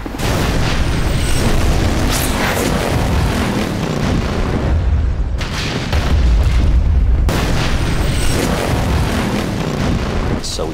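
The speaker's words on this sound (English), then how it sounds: "One of the biggest explosions that I've ever seen in my life" A film stunt explosion blows up a barn in a huge sustained roaring blast, loud and continuous rumble with crackling debris throughout, a brief dip midway before surging again, no talking.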